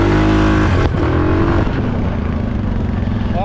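A Suzuki KingQuad 750 ATV engine revved hard at about 60% throttle in high range on dirt, a loud, close, buzzing roar that surges, dips briefly, then settles into a sustained rough drone.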